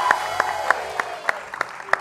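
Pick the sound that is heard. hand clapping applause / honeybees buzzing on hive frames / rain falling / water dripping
hand clapping applause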